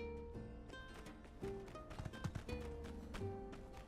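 Horse hooves clip-clop at a steady riding gait in the desert-town game My Time at Sandrock, fairly quiet beneath a light game music bed.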